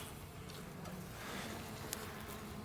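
A faint, steady buzz of many honey bees droning together around a hive, a soft continuous hum with no talking.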